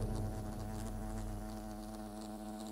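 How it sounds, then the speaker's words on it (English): Wasps buzzing around a picnic area in the video game Fable Anniversary, a dense, continuous droning hum from several insects, steady and fairly loud, with no voices over it. "Wasps are attacking the picnic area."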